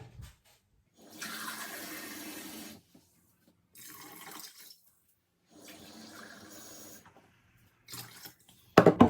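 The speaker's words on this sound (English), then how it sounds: "And then we're also going to add 750 ml of cold water." Cold water pours and splashes into a cooking pot in several separate bursts with quiet gaps between, ending with a sharp clatter.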